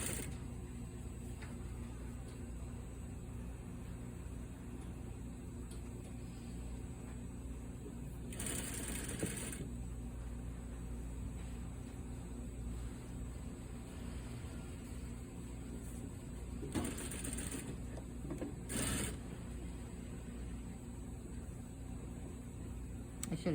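A sewing machine running a holding stitch along a military packet flap, a low steady mechanical hum throughout with a few brief louder bursts of motor whir, nearby and fairly quiet.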